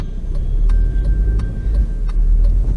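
Steady in-car rumble of a car being driven, heard from inside the cabin, with a constant low road and engine drone and a few faint ticks over nearly three seconds; no talking.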